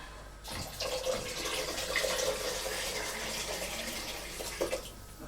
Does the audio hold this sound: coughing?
no